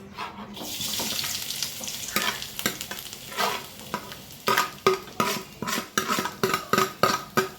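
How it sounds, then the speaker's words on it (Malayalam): Grated coconut roasting in a pan for a Kerala-style tuna curry, with a soft dry sizzle at first, then steady rhythmic scraping strokes of a spoon stirring it, close and alone. "തേങ്ങ നമുക്ക് നല്ലോണം വറുത്തെടുക്കാം"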